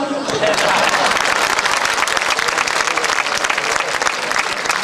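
An audience claps at the 5th Ciudad de Loja trovo contest in 2011, a loud, thick, sustained round of applause from many people that stays strong across the whole stretch.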